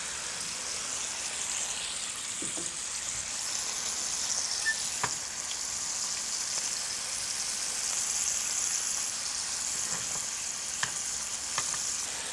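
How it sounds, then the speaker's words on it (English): Steady close sizzle of meat searing in clarified butter, a dense continuous hiss with a few faint clicks of utensils, no voices. "you use the olive oil to sear this with, I'm using a good clarified butter"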